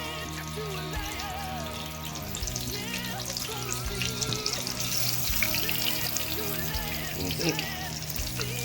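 Veal cutlets for veal Parmesan sizzle steadily in a hot pan, a dense, fairly loud frying crackle that runs throughout with some clattering and faint background sounds mixed in.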